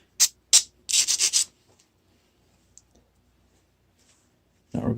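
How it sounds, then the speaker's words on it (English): A stone flake point has its edge ground against an abrasive, heard as two short scrapes and then a rapid burst of rubbing strokes, close and dry, followed by near silence and one more low scrape at the end. "So this is the edge we want to take flakes off of. You're going to want to grind on the opposite face."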